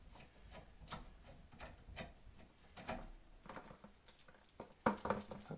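A few small drips and dribbles of water fall from a tankless water heater's hot hose into a bucket, faint irregular taps spaced apart, with a slightly louder cluster of patters near the end.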